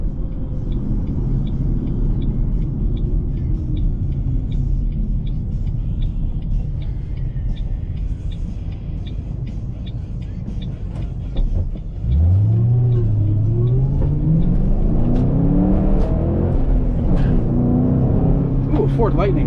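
2008 Ford Mustang GT Premium with the 4.6 3-valve engine running, a steady low rumble that swells into a rising rev partway through, heard close while a voice talks over it.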